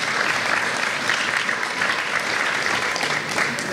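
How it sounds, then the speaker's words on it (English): A dense, steady wash of audience applause for Helen at the start of a talk on sexual abuse, continuing evenly without speech. "how about a round of applause for Helen before we start?"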